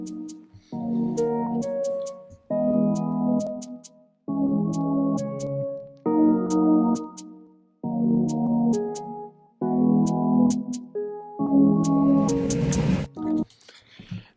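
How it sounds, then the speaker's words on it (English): Repeating chordal loop of a Migos-style trap beat built in GarageBand, ending in a Splice FX riser: a sharp swell of rising noise that surges over the final bars before cutting off. "And then we have this FX riser just on the end."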